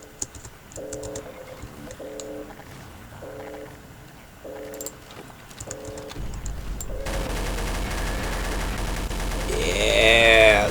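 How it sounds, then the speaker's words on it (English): Sustained minigun fire in Garry's Mod, a dense continuous roar that grows louder over the last few seconds, preceded by a series of short, evenly spaced bursts. "As long as I'm shooting this minigun, it won't."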